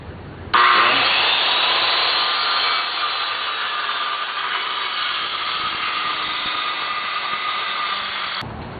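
A power saw with its blade set at a bevel cuts straight down a wood board, giving one loud, steady, continuous whine that starts abruptly and stops sharply after about eight seconds.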